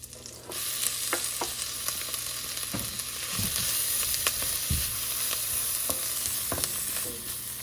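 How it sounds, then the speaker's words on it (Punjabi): Ginger garlic paste frying in a pan with cumin and asafoetida for a creamy garlic mushroom sabji, a constant sizzle broken by several sharp stirring scrapes and clinks, with no talking. "ਆਪਣਾ ਅਦਰਕ ਤੇ ਲਸਣ ਦੇ ਪੇਸਟ ਨੂੰ ਥੋੜਾ ਜਿਹਾ ਸੇਕ ਲੱਗ ਚੁੱਕਿਆ"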